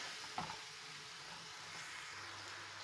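Tomato sauce is sautéed with eggplant and minced meat in a pan, giving a soft, even sizzle and hiss with one faint stir near the start, quiet and close, with no voices.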